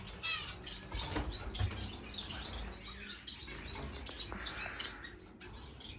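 Finches in an indoor bird room, with busy high chirps and tweets over soft wing flutters and light patter, steady and fairly close throughout.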